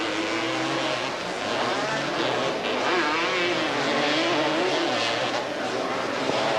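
Honda quads racing on the muddy track at Thurston County Off-Road Vehicle Park, a steady, loud drone of several engines revving together throughout, with a faint voice now and then.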